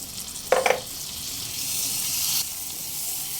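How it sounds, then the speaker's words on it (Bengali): Chopped tomato sautéing in a pan over a low flame for a Bengali chicken rara, a steady soft sizzle throughout with a brief clatter of clinks near the start. "লো ফ্লেমে টমেটো একটু নরম হয়ে আসা পর্যন্ত কষিয়ে নিতে হবে"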